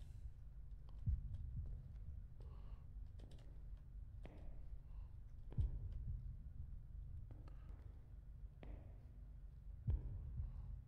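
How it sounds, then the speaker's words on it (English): Heartbeat in a body cam horror game, Deppart Prototype: a low, throbbing thump that repeats steadily, with a sharper beat every few seconds over a dull ambient hum, and no talk. "Why is our heart beating faster?"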